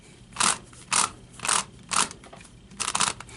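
Five short crunchy clicks from a turning Lan Lan Rex puzzle cube, fairly evenly spaced, close by with no talking.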